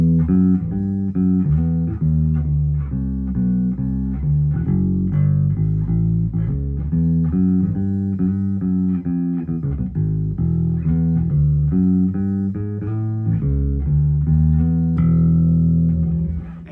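Passive Lakland Skyline Geezer Butler four-string bass played fingerstyle through a Sadowski outboard preamp with extra P-bass pickup level, a continuous groove of punchy, full low notes heard alone for several bars.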